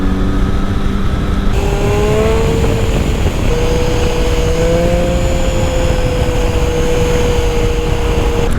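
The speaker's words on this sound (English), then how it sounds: "What's better than riding your bike through the woodlands?" A Triumph Speed Triple motorcycle ridden through woodland at Cannock Chase, its engine a steady droning hum with rising and falling pitch as it shifts and accelerates, under constant wind rush.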